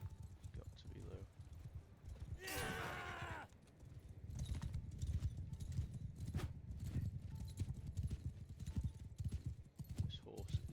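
Horse hooves clip-clop steadily through a battle in the video game Mount & Blade Bannerlord, a loud continuous mounted gallop under combat noise, with a brief neigh-like whinny early on and someone talking over parts of it.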